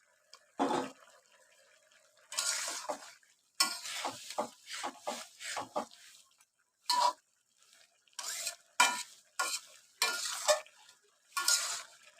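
Fried tilapia pieces go into a pot of tender bottle gourd and are stirred, making repeated close scraping and clattering bursts with short quiet gaps between strokes, with a faint sizzle underneath.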